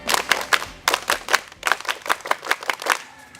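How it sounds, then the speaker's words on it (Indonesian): Scout rhythmic clapping (tepuk pramuka) by students at a girls' school: a group claps in a patterned rhythm, with sharp distinct claps in short clustered bursts and brief pauses, loud and close. "Tepuk pramuka!"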